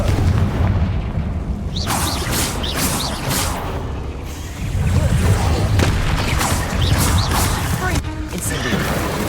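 Confringo explosive spells cast in Hogwarts Legacy: a run of heavy, booming blasts and crashes that land repeatedly over several seconds, loud and close, with a voice heard among them.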